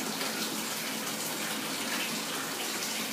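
Water steadily poured and gushing over a dog in a bathtub, a loud, continuous splashing stream close by with no pauses.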